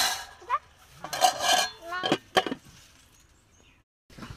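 A metal lid set down over a cooking pan while making singara from atta dough, giving a few short clinks and clatters close by among other kitchen handling noises, then a brief lull.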